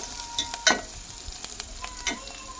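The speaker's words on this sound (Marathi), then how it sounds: "कांदा पूर्ण लाल भाजून घेतला" Onion frying in a pan with garlic, cumin and curry leaves gives a faint sizzle with a few sharp stirring clicks and scrapes, heard alone up close.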